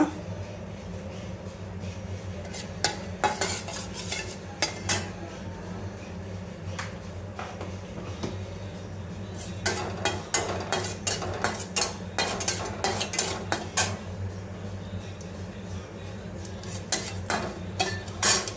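Mustard seeds and cumin fry in a little oil while a spoon stirs the pan. Metal scrapes and clatters come in irregular clusters over a constant low hum.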